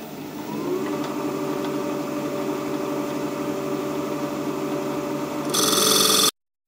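A wood lathe spins while a tenon is turned, giving a steady motorized hum with faint tool scraping, until a louder harsh burst and then a sudden cutoff.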